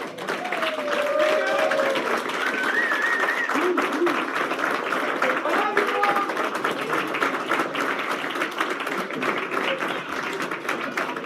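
A graduating class stands and claps for their families and loved ones at a graduation ceremony, dense continuous applause filling the room while voices call out and chatter over it.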